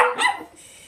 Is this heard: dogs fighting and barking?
yes